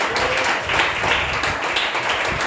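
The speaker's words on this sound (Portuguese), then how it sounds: "Vamos aplaudir nosso Deus" A church congregation applauds, with dense continuous clapping filling the space and swelling slightly as it goes, loud and close, with no voices.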